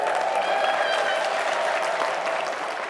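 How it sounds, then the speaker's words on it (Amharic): A church congregation at a Lenten charity feeding in Cardiff applauds steadily with high ululation trilling above, a dense continuous roar of clapping and voices throughout. "እልል ብላችሁ አመስግኗቸው እስኪ።"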